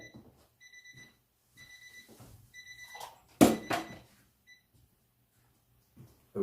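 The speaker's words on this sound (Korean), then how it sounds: "저 시계가 갑자기 알람이 울리네요" A clock alarm suddenly beeps in repeated short bursts of rapid electronic pips. A brief loud clatter comes midway, then a few more beeps before it stops.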